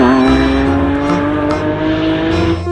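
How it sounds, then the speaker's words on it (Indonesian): A yellow toy Lamborghini race car gives off an electronic engine-revving sound, a bright whining tone that holds steady for a few seconds, loud and close. "Wahai, mobil balap Lamborghini."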